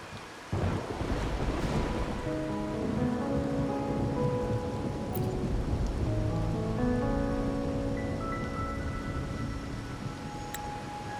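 Steady rain falls through a rainy night in the video game Wuthering Waves, a dense continuous hiss with low rumbling beneath and soft game music tones layered over it, with no voices.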